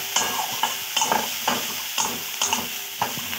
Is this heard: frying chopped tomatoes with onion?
yes